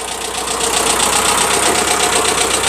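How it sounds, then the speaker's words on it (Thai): A steady, loud diesel engine of a Kubota M5000 SU tractor idling close by, with a continuous rhythmic knocking chug and no voices. "ถัดมาคันนี้ก็จะเป็นในส่วนของรถไถคูปต้า M5000 SU นะครับ"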